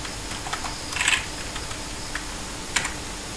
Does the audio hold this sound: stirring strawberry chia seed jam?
no